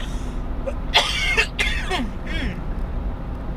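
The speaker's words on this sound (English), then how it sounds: "I've had a little bit of a cough ever since Christmas" A person coughs and clears their throat in a couple of close, harsh bursts, followed by quieter breathy sounds.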